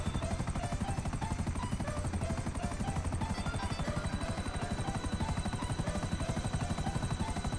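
A helicopter flies in the GTA V video game, its rotor chopping in a steady, loud, continuous beat with a thin high whine running through it, and no voices over it.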